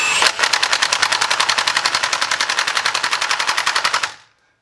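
Milwaukee M18 high torque impact wrench re-torquing a wheel nut on setting 1, a loud, rapid machine-gun-like hammering burst lasting about four seconds before stopping abruptly.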